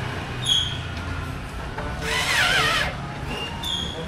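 A small power drill whirs in short bursts, with one longer strained run in the middle, as it tries to drive a screw into a microwave oven during a repair.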